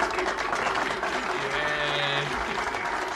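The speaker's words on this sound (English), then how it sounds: "Sounds like maybe 6 or 7 people are applauding" Small group of about six or seven people clapping inside a trailer, a brief, steady patter of applause close by.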